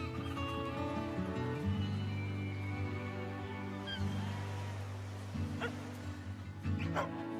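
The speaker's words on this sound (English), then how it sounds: "Dog." A dog yips and barks a few times indoors, mid-level and partly blended with a steady bed of music-like tones, with a couple of sharper bursts near the end.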